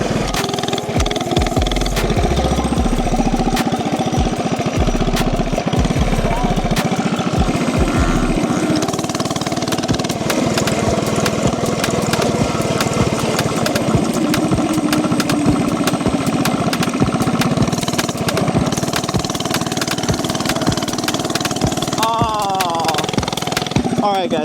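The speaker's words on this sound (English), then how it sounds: "the new exhaust sounds so good" Small single-cylinder engine on an FRP GMB100 mini bike with a new exhaust drones loud and close, a buzzy rasping note that holds steady throughout, with people talking over it.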